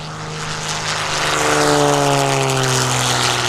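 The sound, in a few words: Extra 300 aerobatic plane, 600 horsepower engine, throttling up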